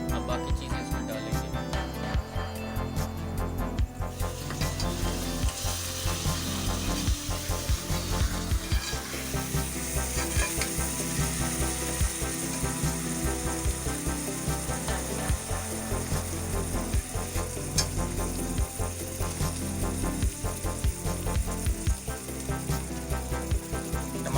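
Onions frying in a pan until light golden, for a potato and bitter gourd dish: a steady, close sizzle with crackling runs unbroken for the whole stretch, with no voices over it.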